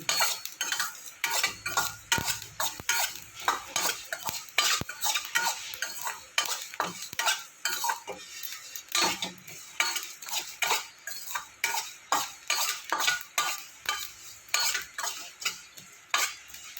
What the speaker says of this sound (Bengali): মশলা যেন না পুড়ে যায় সেইভাবে ভাজতে হবে।